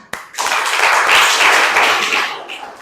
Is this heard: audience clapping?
yes